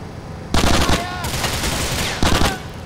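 Rapid automatic gunfire from a gun in Grand Theft Auto 4: The Ballad of Gay Tony, two loud bursts of repeated shots with a sustained rattling stretch between them, close and forceful with no talk.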